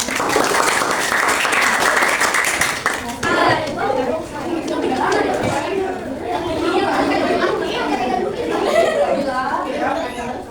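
A room of participants claps loudly for about three seconds during a coding and artificial intelligence training session, then the applause fades into lively chatter, children's voices and a little laughter.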